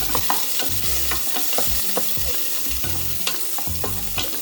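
Sliced onions fry in a pan for chicken biryani, a continuous hiss and sizzle broken by repeated scraping stirs of a spoon against the pan, with no talking.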